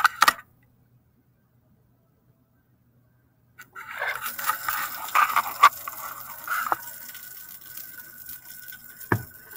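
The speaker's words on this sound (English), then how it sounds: "basically this hose is a vacuum, and it sucks everything through" After a brief click and several seconds of silence, a lab vacuum hose pulling liquid through a filter starts up with hissing, gurgling suction and runs on steadily, with a few sharp clicks.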